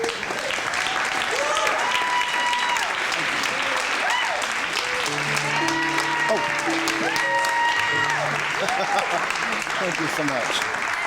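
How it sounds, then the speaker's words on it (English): Enthusiastic audience applause at a 50th birthday celebration, loud and sustained, with a few cheers and sustained musical tones underneath; a voice briefly thanks the crowd over the clapping. "another round of applause"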